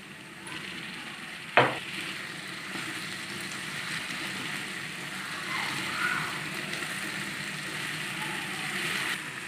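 Chopped onion and tomatoes frying in a pan for an Afghani-style egg and potato omelette, giving a steady faint sizzle with light stirring scrapes and one sharp clack early on.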